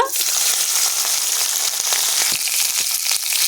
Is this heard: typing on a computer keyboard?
no